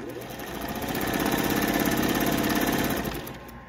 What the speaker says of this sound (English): First sew with no adjustments on my Singer 101.